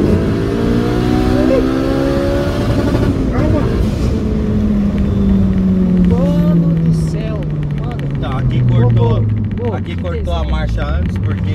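A 380 hp Honda Civic Si engine revs hard through the gears under the driver's excited talk, with an abrupt ignition cut on the shift into third and a falling engine pitch afterward.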